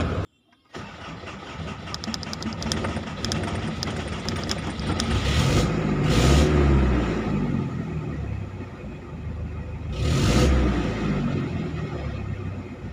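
A Mazda B22 diesel engine cranks and catches right after its fuel pump has been bled, then runs with a loud, steady rumble that swells twice as it is revved, close to the microphone with no talk.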